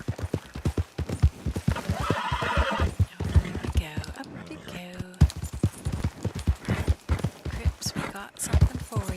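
A horse in Red Dead Redemption 2 Online neighs and whinnies amid clattering hoofbeats, loud and close, with bursts of game noise and someone talking over parts of it.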